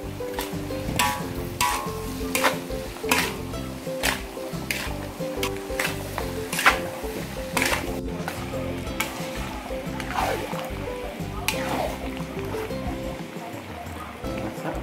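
Acar, a fruit pickle with garlic, shallots, curry and pepper, gets stirred in a pot, with repeated scraping strokes over a steady sizzle and bubbling, close and fairly loud with background music-like tones.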